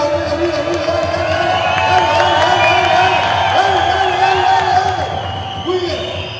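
Crowd at a beatbox battle cheering, whooping and clapping in a loud, sustained roar, with a host's voice calling out over the noise.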